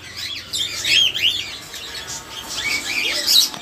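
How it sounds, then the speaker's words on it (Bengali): Lovebirds and Indian ringneck parakeets chirp in quick, high bursts, several short tweets and trills repeating close by over a quiet background. "এখানে একটা জোড়া লাভবার্ড পাখি আছে অনেক সুন্দর চমৎকার একটা জোড়া।"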